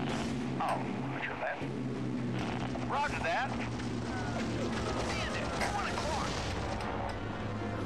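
Rockets and explosions in the World War II air combat game Heroes of the Pacific make continuous rumbling booms and mechanical engine drone, with a voice talking over the action.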